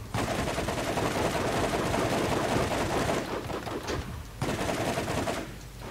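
Rapid automatic gunfire in the video game Borderlands rattles in dense, sustained bursts, loud and close, with a couple of brief gaps before the shooting resumes.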